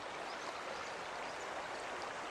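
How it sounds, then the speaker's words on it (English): The River Irthing at the Gilsland stepping stones flows in a steady, broad rushing wash of water, continuous and even throughout with no talk. "There's the river where I am."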